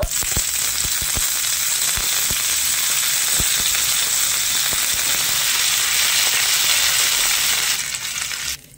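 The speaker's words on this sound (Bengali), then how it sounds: "এবারে থেতো করে রাখা আদা আর কাঁচা লঙ্কাটা দিয়ে দেব।" Crushed ginger and green chili hit hot oil in a pan for a cabbage paratha filling, giving a loud, steady sizzle with scattered crackles and pops that runs throughout and cuts off near the end.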